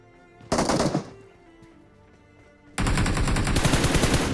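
Gunfire in a battle royale video game: a short, loud automatic burst, a quieter pause, then a longer sustained burst of rapid shots.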